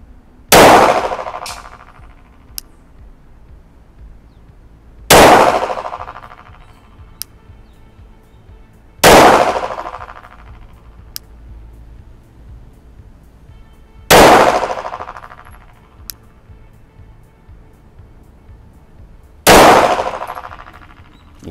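A Glock 17 MOS pistol fires at a shooting range, five loud sharp shots spaced several seconds apart, each ringing briefly before fading, with faint distant pops from other shooters between.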